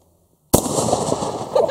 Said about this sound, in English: that's the cucumber explosion we were looking for